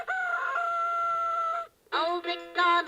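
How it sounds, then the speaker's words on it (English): A rooster crows loudly and close up in two bursts, a long harmonic call, a brief pause, then a second choppier crow. "A rooster says cock-a-doodle-doo."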